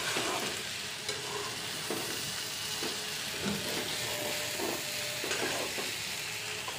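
Vegetable bhaji frying in a pan gives a steady, loud sizzle throughout, with occasional scrapes of stirring and no voices.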